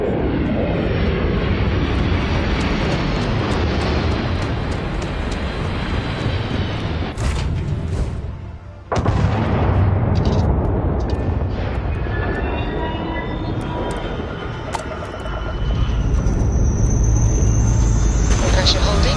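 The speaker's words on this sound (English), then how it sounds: "Pressure holding. Takeoff looks good." Spaceship lifting off in the game Starfield, a loud sustained roaring rumble that dips briefly, then surges back with rising thrust, a high whine and a voice speaking over it.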